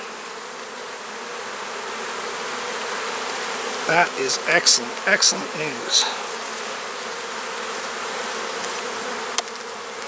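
Honey bees drone steadily at an open hive, a continuous close buzz, while someone speaks briefly partway through.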